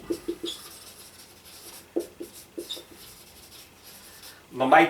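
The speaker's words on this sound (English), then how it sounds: "let me write it over here" Marker or chalk strokes on a classroom board: a few short scratchy rubs in quick bursts with pauses between, close and moderately loud, ending with a louder rustling burst.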